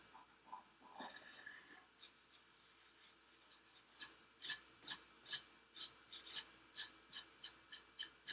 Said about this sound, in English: I'm going to get my detail tool and scrape this out of the center there.